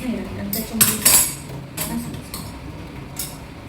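Dishes and utensils being washed in warm water, with irregular clinks and clatters of metal pots and cutlery close by, a few sharp knocks, and a voice talking underneath.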